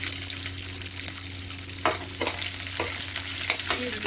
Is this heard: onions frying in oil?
yes